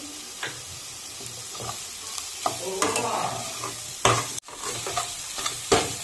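Leafy greens seasoned with salt, turmeric and sugar frying in a pan while being stirred, a soft continuous sizzle broken by scraping strokes and clattering spatula knocks against the pan.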